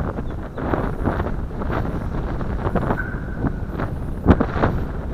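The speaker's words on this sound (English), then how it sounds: "50 knots is a good wind, folks." Strong wind of about 15 knots buffeting the microphone outdoors on a windy day, a steady loud rumbling roar with gusty swells and a faint whine from a Syma X5C drone.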